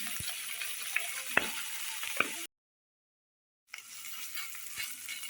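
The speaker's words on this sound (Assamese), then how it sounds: "এতিয়া ইয়াতে মাছখিনি ফ্ৰাই কৰিব লাগিব।" Marinated magur catfish pieces fry in hot oil, giving a close, bright sizzle with a few sharp crackles and pops. The frying stops for about a second of silence, then the hiss comes back.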